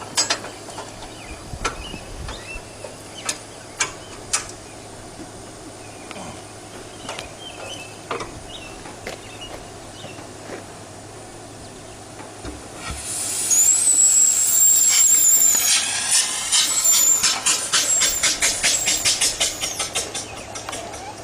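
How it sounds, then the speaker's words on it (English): A restored 1917 Maytag Model 43 washer: faint sparse clicks and knocks, then a loud, steady mechanical hiss and clatter with a thin whine kicks in about two-thirds of the way through and runs to the end. "Here's a 1917 Maytag Model 43 washer."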